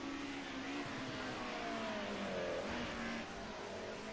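A BMW touring car from a Group A1 tourers field races at Oulton Park, its engine droning and revving steadily at a moderate distance, faint and continuous without any voices.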